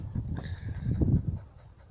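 Border collies pant rapidly and close by after running in a BMX park, a breathy rhythmic huffing that swells briefly and then eases off, with no talking.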